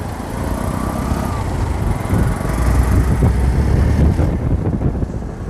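A Hero Xpulse 200 BS6 motorcycle on the move, its engine drone mixed with rushing wind, building in loudness midway and easing off toward the end.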